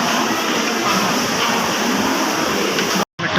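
A train at Pune railway station gives a loud, steady, rushing rumble that stays constant throughout, with a brief drop to near silence just before the end.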